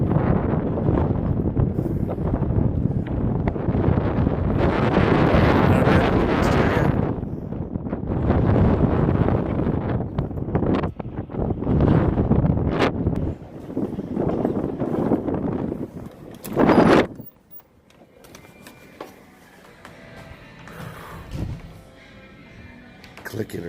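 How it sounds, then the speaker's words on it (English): Strong wind blowing outdoors, buffeting the microphone in loud, roaring gusts under talk for most of the stretch, then cutting off abruptly to a quieter interior near the end. "The wind's blowing pretty good."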